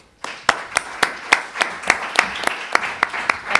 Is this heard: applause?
yes